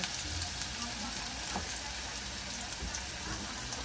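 Onion and garlic frying with curry leaves in a pan make a steady, close sizzle with fine crackling throughout, no one talking over it.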